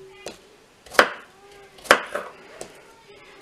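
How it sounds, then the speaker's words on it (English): A knife roughly chops peeled apples on a cutting board: a few sharp, irregular thuds spaced about a second apart, close and distinct against quiet background. "I'm just chopping the apples up pretty roughly"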